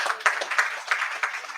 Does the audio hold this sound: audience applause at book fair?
yes